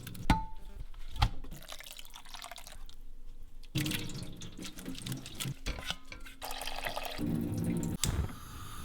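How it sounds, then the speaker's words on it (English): Water splashes and runs at a sink as overnight-soaked oat porridge is drained and rinsed, with irregular pours, drips and clattering of a pot or sieve at close range, quiet overall. "So I'm now going to drain it and give it 1 rinse."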